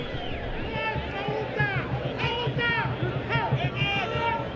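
Lively crowd at a youth football match, Zimbabwe against Mozambique in an under-17 qualifier, a steady roar and babble filling the stadium beneath continuous commentary.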